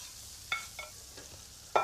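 A spoon scrapes through chilli beef in a pot with kidney beans and rich beef stock, giving a few soft, irregular stirring scrapes over a faint background sizzle.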